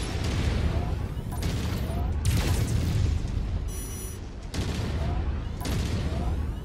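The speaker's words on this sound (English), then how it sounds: "Okay, that was a big missile stream." Repeated booming missile launches from a mech-style video game, several heavy bursts in quick succession, each a loud blast with a rushing tail, continuous and dense.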